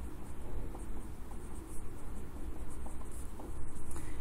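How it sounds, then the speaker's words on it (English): Marker or chalk scratches across a board as math is written out, giving faint, intermittent strokes and squeaks over a low background hum with no talk. "So I'm going to write all this stuff again."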